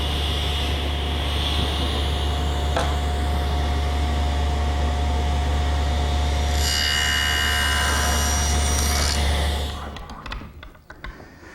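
A table saw runs loud and steady while cutting a shoulder into the end of a wooden board, then spins down and stops near the end with a few clatters.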